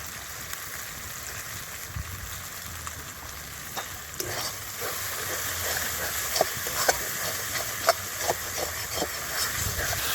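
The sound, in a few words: spice paste being stir-fried in a pan for goat intestine gravy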